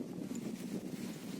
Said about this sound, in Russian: Поднялся ветер.